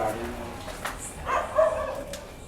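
Dogs barking in the distance around an abandoned house in Hyderabad, short yelps rising faintly over a steady hiss of background noise, with no voices over them.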